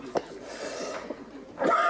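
A couple of short, dry coughs close by, separated by a brief pause, the second burst a little stronger.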